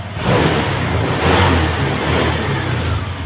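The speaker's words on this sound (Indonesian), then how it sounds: "lalu kita kontak on kembali, motor menyala" Honda Vario 150 scooter engine running steadily at close range, a continuous loud mid-pitched hum with a slight swell in revs partway through, no voices.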